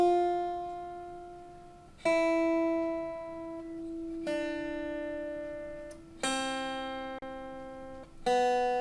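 Slow guitar exercise on the top two strings, five long whole notes plucked one at a time roughly two seconds apart, each ringing and fading before the next, close and quiet with no counting voice.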